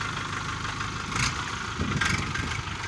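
A JINMA 404 40-horsepower tractor engine runs steadily at close range, a continuous low rumble with a couple of brief louder swells, no voices.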